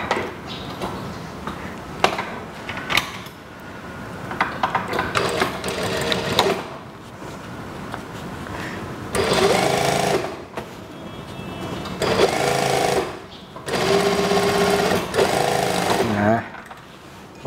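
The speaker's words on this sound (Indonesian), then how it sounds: "Dijahit, ikuti saja garis ini." A sewing machine stitches a school skirt in several bursts of rapid mechanical whirring and clatter, separated by pauses with quieter handling noises and occasional soft talk.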